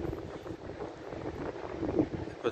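Wind blowing by the sea, a steady rough gusting rush buffeting the microphone throughout, with a couple of brief louder gusts near the end.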